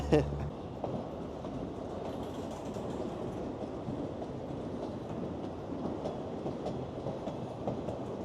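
A train rumbling by with a steady roar and faint clattering of wheels on rails, continuous throughout.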